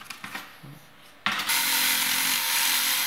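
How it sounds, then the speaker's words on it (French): A laminate flooring plank is sawn near a door frame, starting abruptly after a quiet moment and becoming a steady, loud, bright rasping that continues to the end. "Tu marques le dernier morceau de lame de la rangée butant contre le cadre et tu le scies."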